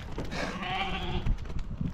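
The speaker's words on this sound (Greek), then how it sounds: "Τα πρόβατα!" Sheep bleating on the Greek island of Naxos: a single close, drawn-out wavering bleat, loud and clear, followed by faint shuffling and outdoor noise.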